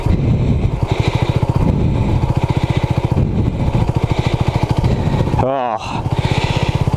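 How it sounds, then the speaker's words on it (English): Honda CB250RS motorcycle engine running steadily while being ridden down a green lane, a loud rapid single-cylinder pulse throughout, with a brief gear-change dip near the end and a voice talking over it. "I fucking love this bike."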